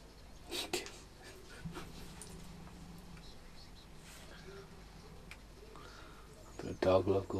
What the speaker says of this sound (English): There's that dog next door.